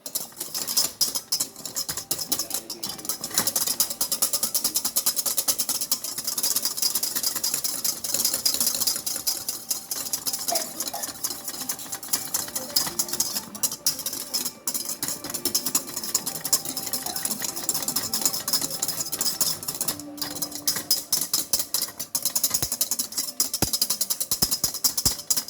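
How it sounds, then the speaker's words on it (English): Egg whites being beaten with powdered sugar for a two-ingredient royal icing, a steady whirring mechanical drone of a mixer running continuously throughout with faint clicks, no talking. "you just have to agitate the egg whites with the powdered sugar"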